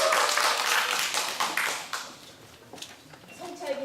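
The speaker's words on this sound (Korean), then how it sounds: "큰 박수로 맞이해 주시기 바랍니다" Audience applause at a public-sector HRD contest final welcoming a presenter to the stage, dense broadband clapping that starts loud and thins out toward the end, with a voice speaking briefly at the close.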